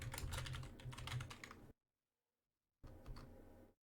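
Typing a command on a computer keyboard at a command prompt, a quick, close burst of key clicks, a silent pause of about a second, then another short run of tapping, with no talking.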